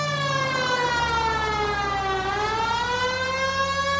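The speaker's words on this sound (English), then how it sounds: "Turn on the siren and pull her over." A police car siren wails in the video game L.A. Noire, played on PS4: a loud, continuous rising and falling electronic tone with rich harmonics, sweeping down and back up over a low engine rumble.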